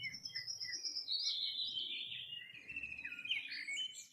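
A bird chirps alone in a quiet setting, giving a faint, continuous run of high warbling tweets with rising and falling sweeps that last the whole moment.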